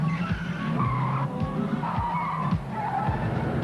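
Fast cars in heavy traffic skidding, with repeated sharp tire squeals and engine whooshes passing at intervals over a busy road rumble.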